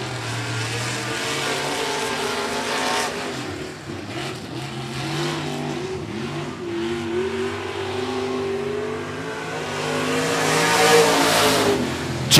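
Race cars roar around the 105 Speedway oval, engines droning and revving as they sweep past, a loud continuous rumble that rises and falls with the pack, no voices.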